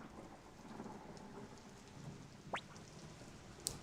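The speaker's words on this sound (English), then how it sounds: "The rain still hasn't let up." Rain in the video game Suikoden falls as a constant low hiss with a distant rumble, quiet throughout, with a brief rising chirp partway through and a sharp faint tick near the end, no voices.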